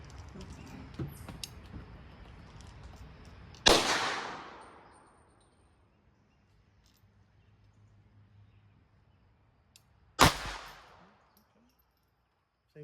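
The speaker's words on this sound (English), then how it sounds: "I haven't shot these in this gun before." Two sharp shots from a .22 LR semi-automatic handgun ring out several seconds apart, each a loud crack with a decaying tail, over a quiet outdoor background.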